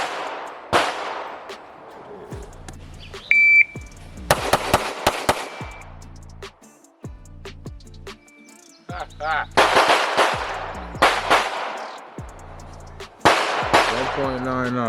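Sharp, close pistol shots from a Staccato P fired in several quick bursts, separated by short pauses, with some faint talk between strings.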